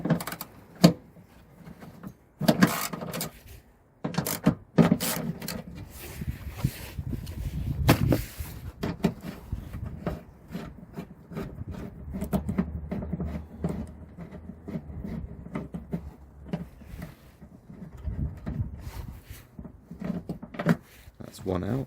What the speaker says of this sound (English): let's get the two 10mm bolts undone